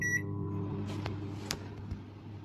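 A household microwave oven runs with its magnetron humming after an earlier high-voltage arcing fault blamed on damp. A short beep at the start gives way to a steady, close electrical hum with a couple of faint clicks.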